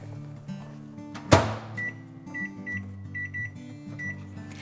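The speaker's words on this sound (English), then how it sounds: "we're gonna stick it in the microwave for 15 minutes" Microwave oven running while a whole spaghetti squash cooks inside, a steady low hum with a sharp clunk of the door or start button and faint repeated beeps, no talking.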